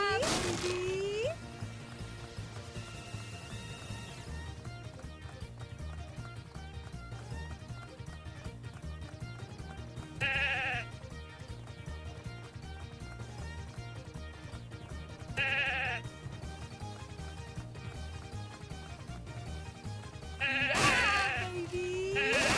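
Cartoonish sheep in the video game The Good Life bleat in short separate bursts over a looping game soundtrack, with a voice talking intermittently.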